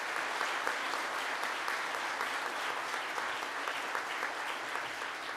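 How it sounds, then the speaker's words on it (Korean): Audience applause at the 2024 Samsung Ho-Am Prize award ceremony, a dense and even wash of many hands clapping in a large hall, held steady without a break and fairly soft. "내빈 여러분의 뜨거운 박수 또한 부탁드리겠습니다"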